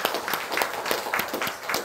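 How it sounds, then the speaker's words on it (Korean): A church congregation claps steadily together during a Sunday service, a dense and continuous round of applause. "응원하는 마음으로 큰 박수 한번 하겠습니다"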